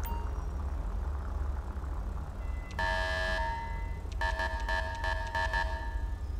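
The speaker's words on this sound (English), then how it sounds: "I like how it says hold left stick to do megaphone, except it's just an air horn." Police air horn in the video game LSPDFR, two bursts of a blaring, tonal horn sounded over a low engine idle, the second broken into short rapid blasts.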